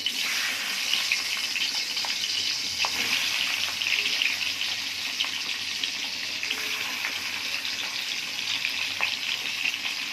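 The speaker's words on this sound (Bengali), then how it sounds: "এবার ডিম হালকা করে ভেজে নেব" Eggs frying lightly in hot oil in a wok during a home egg korma preparation, a steady broadband sizzle that holds close and even for the whole stretch, with faint occasional stirring taps and no talk.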